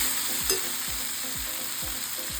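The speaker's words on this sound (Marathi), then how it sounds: "ही भाजी मी चांगली फिरून घेणार आहे" Hadsan wild leafy vegetable stirred and fried in a pan, a steady close sizzle with soft, regular scraping strokes of the spoon roughly every half second.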